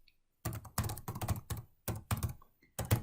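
Typing on a computer keyboard, heard as a close, brisk run of clustered keystroke bursts with short pauses between them and no voices.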